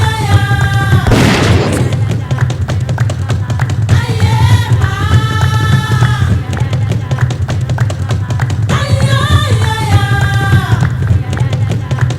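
A single loud rifle shot from a Musgrave Field Delux .308 fired at a steenbok ram on an African hunt, a sharp boom early on, with background music playing throughout.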